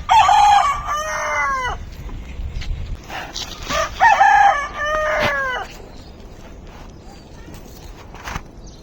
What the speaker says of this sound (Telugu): కోళ్ళు ఉన్నాయి ఈడ.